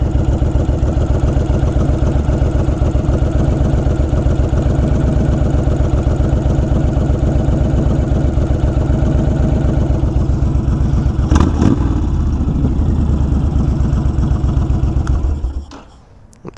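A Honda Fury motorcycle sits idling after a hard start, a steady, loud, close low throb with an even pulsing rhythm that cuts out near the end.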